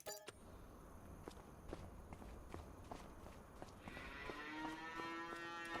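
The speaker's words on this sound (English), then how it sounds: "Then we have a second pasture for 90 cows." Cows moo in the Farming Simulator 25 video game, a long low drawn-out moo rising near the end. Hoof-like footsteps tap in an uneven rhythm over a quiet farmyard background.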